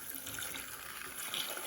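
Water dumped from a container onto a storm protection device, a soft continuous splashing rush like a running tap, fairly quiet and steady for under two seconds with no talk over it.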